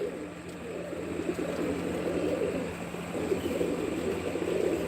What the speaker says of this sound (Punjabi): ਇਹ ਆ ਬਾਈ ਜੱਸੀ ਮਾਧਪੁਰ ਬਾਈ ਦੇ ਕਬੂਤਰ